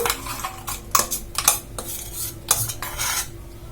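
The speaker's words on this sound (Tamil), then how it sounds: "நம்ம அரைச்சி வச்சிருந்த பேஸ்ட்டை வந்து மிக்சிங் பவுல்ல வந்து போட்டுக்கலாம்" Ground paste being scraped into a mixing bowl with a spoon for potato tea-shop evening snacks, several close metallic clinks and scrapes against the bowl in an uneven rhythm.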